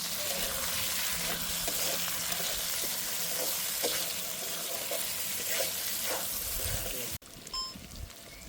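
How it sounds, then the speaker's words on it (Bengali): Chopped tomatoes hit a pan of pork masala. A steady, loud frying hiss runs throughout with scattered stirring clicks, then cuts abruptly near the end to a quieter room with a few faint knocks. "এবার দিয়ে দেব কেটে রাখা টমেটো"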